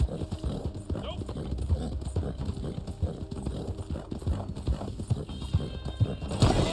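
Horse hooves clip-clop steadily in Red Dead Online, with a whinny among them, while a person talks over the galloping throughout.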